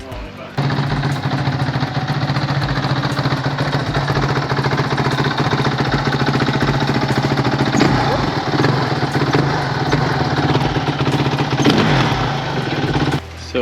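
A Kawasaki KX450F dirt bike fitted with a new titanium header runs close by at a loud, steady idle with a throbbing low rumble. It continues unbroken for most of the clip, then cuts off briefly near the end.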